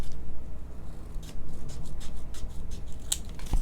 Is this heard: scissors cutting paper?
yes